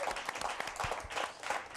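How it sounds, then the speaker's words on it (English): A studio audience applauding, a short burst of dense, fairly soft clapping. "Give yourself a round of applause."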